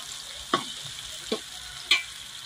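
Tomatoes frying in oil in a pan for a dried-fish curry, a continuous soft sizzle broken by three distinct scraping stirs of a spoon, close and fairly quiet with no talking.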